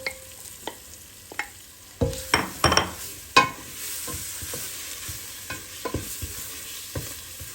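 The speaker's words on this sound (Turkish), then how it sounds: "Şimdi birazcık bu salça kavrulsun" Tomato paste frying in a pot for meatball soup: a sharp burst of sizzling and clattering stirring scrapes, then a steady crackle under repeated spoon taps, close and moderately loud, without speech.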